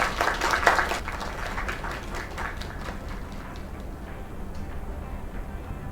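Applause and clapping from a small group celebrating inside the video game Lake, a dense patter of claps that is strongest at the start and then thins to a steady lighter ripple.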